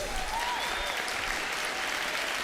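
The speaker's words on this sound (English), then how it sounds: "Just round of applause for him." Steady round of applause from a live audience for a guest on a comedy show, dense continuous clapping throughout at even loudness with no talk.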